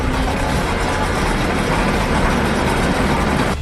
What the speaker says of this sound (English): Carefully position the auger. Mark the auger for desired depth and dig the hole